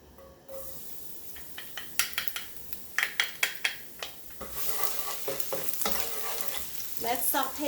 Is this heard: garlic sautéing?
yes